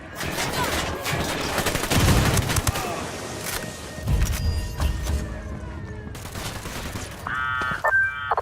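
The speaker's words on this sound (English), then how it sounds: "Grenade, get to cover. Grenade! Frag out." Dense gunfire and a grenade blast in the Ghost Recon Wildlands video game, with rapid overlapping shots, heavy thumps and a deep boom midway, ending in brief electronic beeps.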